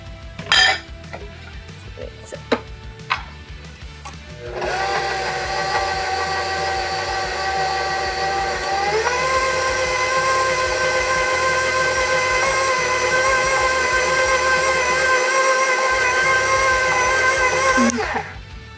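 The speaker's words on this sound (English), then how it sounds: "I'm gonna start it on the mixer to get it going" Electric mixer whirring through keto chocolate chip cookie dough in an RV kitchen, starting with a few clinks and then running steadily and loudly, changing pitch once partway, before cutting off.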